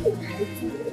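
High-flying pigeons in a loft give a few soft, low coos, brief and fairly close, over a light background murmur.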